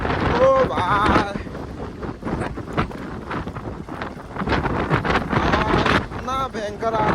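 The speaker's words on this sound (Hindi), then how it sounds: "इतना जोर जोर से हवा देता है ना यहाँ में" Strong mountain wind near Walong in Anjaw district buffets the microphone in loud, gusting roars, with an indistinct voice breaking through between blasts.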